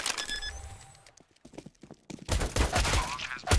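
Gunfire in a Counter-Strike match on the Cache map: a quick burst of shots, a short lull with scattered clicks and faint steps, then more rapid, loud firing close up.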